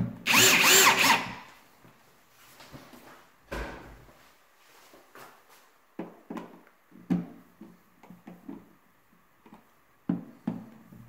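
A power drill drives a screw into a light switch face plate in one loud, close whirring burst, followed by quiet scattered clicks and taps of handling.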